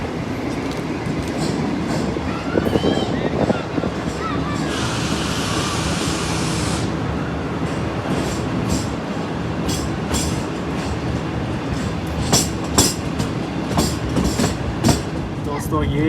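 Pakistan's Green Line Express passenger train runs at around 100 km/h near Gujranwala, a continuous rumbling roar with rattling carriages and a brief high hiss, with sharp wheel-on-rail clicks growing more frequent toward the end.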